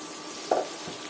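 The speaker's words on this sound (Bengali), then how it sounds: "আদা রসুন বাটা ভেজে নেওয়া হয়ে গিয়েছে এখন দিয়ে দিচ্ছি ধুয়ে রাখা চুলায় চালগুলো" Washed rice drops into a pan of fried ginger-garlic paste and oil and catches in one brief, soft sizzle with a faint clatter. The sound is quiet and close, with no one talking.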